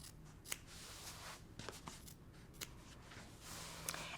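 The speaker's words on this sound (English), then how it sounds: "I'm going to cut each corner just like this." Scissors snip the corners off a trimmed quilt block, giving a few sharp, close cuts spread over a quiet room.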